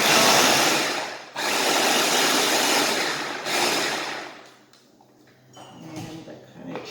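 A handheld electric chopper grinds firm peaches for jam, running loud and close in two long whirring bursts before dropping to quieter clatter and softer pulses.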